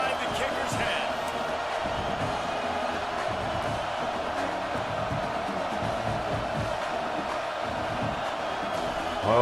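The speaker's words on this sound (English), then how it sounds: "This crowd trying to do its part to get inside the kicker's head." A stadium crowd in a college football video game roars as the kicker lines up on fourth down; a continuous dense crowd din with thumping accents runs beneath commentary-style talk throughout.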